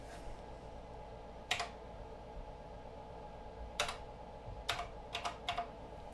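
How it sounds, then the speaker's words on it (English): Sparse keystrokes on a computer keyboard connected to a Mark-8 microcomputer, a few isolated clacks followed by a quicker cluster of taps over a low steady hum. "Let's type something in."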